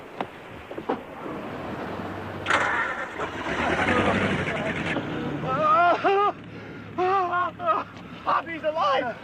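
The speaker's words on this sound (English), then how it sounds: "I start the engine quick" A boat engine cranks and roars into life with a rising throaty rumble, then runs on while excited voices shout over it in bursts.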